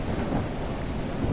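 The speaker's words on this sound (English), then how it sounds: "The thunder, the rain" Steady, dense rainfall and rolling thunder from the weather in the video game Dead Matter form a continuous, full roar throughout, with no voices.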